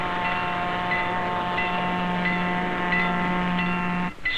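A train nears a railroad crossing, a steady loud rumble with a sustained low hum and tonal whine running throughout before cutting off abruptly near the end.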